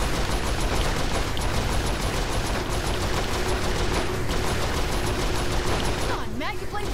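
Turret gunfire in Saints Row IV, a dense continuous barrage of rapid automatic shots roaring without pause, mechanical whirs rising near the end.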